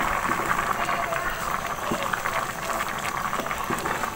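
Bhuna khichuri bubbling at a steady boil in a pot while being stirred, a continuous close simmering hiss with soft scraping through the pot.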